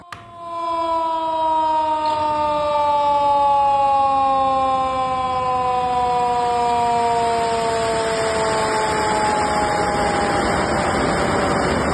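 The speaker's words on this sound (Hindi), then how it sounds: "स्पिलवेज खोलने से कबल करीबी आबादी को अलर्ट करने के लिए सायरन भी बजाया गया।" A warning siren sounds before dam spillways are opened, a loud, steady, sustained wail that slowly sinks in pitch. It carries on for the whole stretch over a hiss of rain or rushing water.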